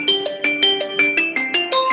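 A mobile phone rings with a bright electronic melody of quick, evenly spaced notes, loud and close, repeating without any voices.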